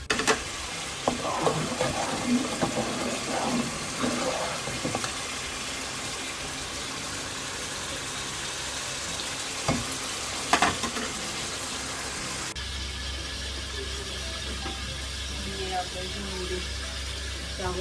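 Rice mixture for an Eid dish cooking in a pan, a steady sizzle and bubbling with occasional stirring scrapes, fairly loud and continuous, then a lower, steadier simmering hum in the last few seconds.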